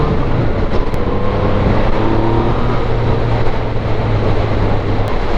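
A 2017 Yamaha FZ-09 motorcycle pulls hard under acceleration, its engine drone rising beneath heavy rushing wind noise, loud and continuous throughout.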